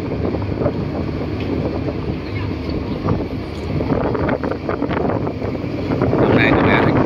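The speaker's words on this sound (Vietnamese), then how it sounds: "Hôm nay có vẻ trời cũng hơi gió hơn" Wind roars and buffets a microphone aboard a high-speed boat bound for Phu Quy island, a loud, constant rush over a low engine rumble, growing stronger near the end, with muffled voices under it.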